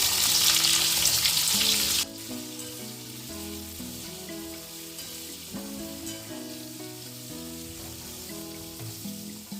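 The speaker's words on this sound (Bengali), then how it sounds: "মশলাটা ভাজা হয়ে গেছে" Whole spices with bay leaf, dried chillies, cumin and onion fry in hot oil in a pan, a loud crackling sizzle for about two seconds that then drops to a softer, steady frying hiss with a tonal background beneath.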